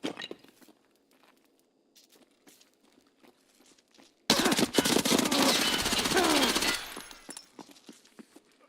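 Sustained heavy automatic gunfire in Escape From Tarkov erupts after a quiet stretch of faint ambient noise, a dense loud burst lasting a few seconds before trailing off into scattered clatter.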